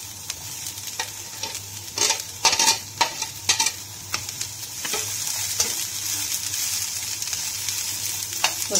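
Shredded cabbage sautés in a hot pan for a desi chicken soup, a steady close sizzle broken by sharp scraping and clattering stirs, loud and continuous without any talk.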